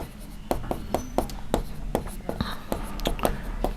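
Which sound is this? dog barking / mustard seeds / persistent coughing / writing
writing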